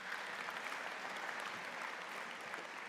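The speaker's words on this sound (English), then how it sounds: "let's give our president a big round of applause." A convocation audience applauds the university president, with steady, dense clapping from a large crowd throughout, evenly sustained and somewhat distant.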